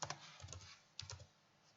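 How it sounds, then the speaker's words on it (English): Soft keyboard typing, a short burst of quick keystrokes, a pause, then a few more taps, close and quiet with no talking. "then again by typing the password"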